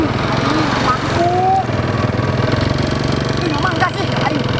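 A motorcycle engine buzzes steadily and revs in short rises close by, with voices talking and shouting over it.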